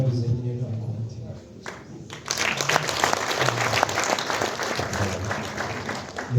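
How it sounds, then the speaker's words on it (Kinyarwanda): Applause breaks out at a Rwandan wedding: a crowd's dense, sustained clapping swells in after a quieter opening with voices and carries on steadily under ongoing talk. "amashyi ntayibura muri iyi minsi"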